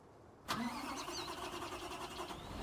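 An agro truck's engine in Farming Simulator 19 cranks and catches with a sudden burst, then settles into a steady mid-pitched idle that hums on without talk.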